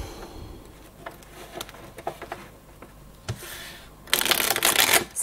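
Tarot cards being shuffled before a reading, light scattered taps and flicks at first, then a dense, loud riffling burst near the end, all close up with no talk.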